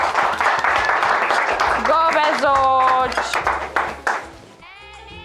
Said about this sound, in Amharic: ጎበዞች ለራሳችሁ አጨብጭቡ፣ አጨብጭቡ